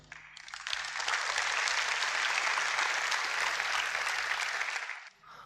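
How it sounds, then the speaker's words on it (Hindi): A school audience applauds at a fitness week event, a steady, dense clapping that swells quickly, holds for about four seconds and then dies away, with no voices over it. "आप लोगों ने मेरे लिए बहुत तालियां बजाई।"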